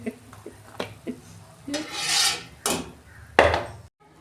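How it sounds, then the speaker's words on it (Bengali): Semolina pitha cooks in hot oil in a pan, with a soft sizzle under a series of close, uneven scraping and rubbing strokes from a utensil, a few short and two longer ones, ending abruptly. "আস্তে করে দিয়ে ভাজছি"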